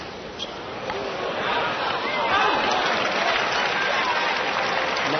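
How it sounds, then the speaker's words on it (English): A 1991 US Open tennis crowd roars and applauds after a McEnroe point against Chang, a dense, steady wash of clapping and cheering that swells slightly and holds throughout. "Every time McEnroe wins a point, you hear a roar go up."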